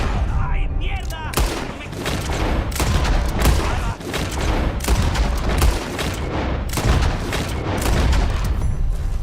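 Rapid, heavy gunfire from the video game Red Dead Redemption 2, a dense barrage of loud, overlapping shots with booming reports that fills the whole stretch, with voices speaking faintly between the blasts.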